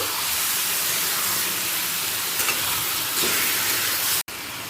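Chicken stirred into fried onions in a hot pan gives a loud, dense, continuous hiss of sizzling that fills the whole stretch, dropping out for an instant just before the end.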